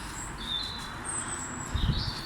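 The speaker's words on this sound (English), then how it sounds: "Can you hear them birds?" Birds sing outdoors after 11 at night, with faint high chirps and whistled phrases set against a low background rumble, with a short soft thump near the end.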